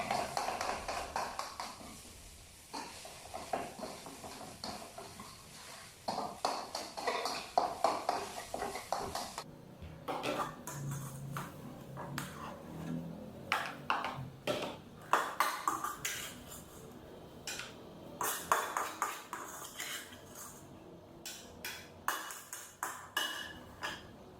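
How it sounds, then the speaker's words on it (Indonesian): Nasi goreng being cooked at home, with pans and utensils giving a run of scattered clinks, taps and scraping knocks at an irregular pace, some quick bursts close by. "kali ini aku akan masak nasi goreng"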